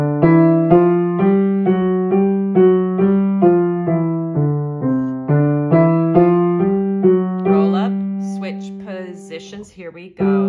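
Piano exercise played hands together, a steady run of evenly spaced notes moving up and back down, close and clear, with a voice speaking over the final seconds.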